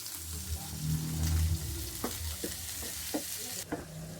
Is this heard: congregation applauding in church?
no